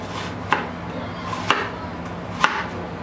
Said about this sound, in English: You're just gonna slice some thin slices, again, not all the way towards the back